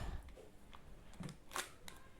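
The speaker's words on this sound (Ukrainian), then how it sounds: "Давайте розпакуємо ось цей пакетик." A small plastic packaging bag holding DJI stickers is opened during a DJI Mic Mini unboxing, giving a few quiet, brief crinkles and clicks close by over a faint background hiss.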